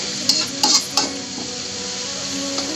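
Corn sautés in a pan with a splash of water added: a few quick scraping stirs early on, then a steady, close sizzle that continues alone.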